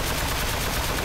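Rapid, continuous automatic gunfire in a video game as shots hammer into a metal enemy, a dense, loud, unbroken roar of bullets.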